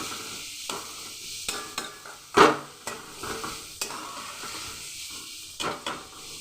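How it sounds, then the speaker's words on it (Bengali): Chicken filling for spring rolls stir-fried in a pan, with a light sizzle under intermittent scraping and clattering stirs and one louder knock near the middle. No voices. "এটাকে বেশি করে ভাজার দরকার নেই, অল্প একটু নাড়াচাড়া করলেই হয়ে যাবে।"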